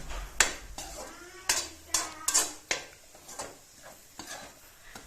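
A spoon stirs and scrapes a pan of coconut frying with sugar for coconut laddu, giving a string of sharp metallic clinks and knocks at an uneven pace, close by, with no talking.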